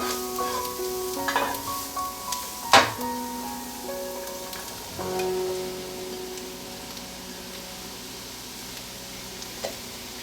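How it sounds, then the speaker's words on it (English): Mushrooms sauté in a pan for a chicken Manhattan dish, giving a soft, steady sizzle with an occasional sharp clink of a utensil and a brief scrape midway. "we're going to saute these till they soften and lose a little bit of their liquid"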